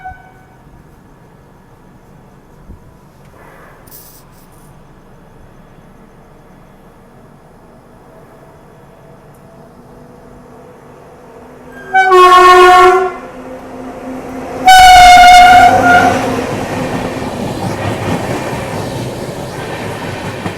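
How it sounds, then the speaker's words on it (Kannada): An express train from Hassan to Solapur overtakes the Rajdhani Express and sounds its horn. A low rail rumble runs steadily, then two loud horn blasts break through, the second one longer. A rushing passing-train noise follows and continues. "Haasan Solapur overtaking Rajdhani express"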